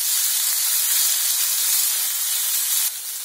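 Soya chunks frying in a pan on a high flame, giving a steady bright sizzle and hiss that stays loud and even, dropping slightly in level right at the end.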